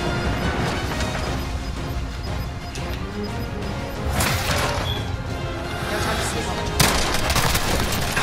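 Shotgun and pistol fire in a battle-royale style video game, heard as loud bursts of gunshots and crashes over a dense, busy game soundscape, with a sharp report near the end.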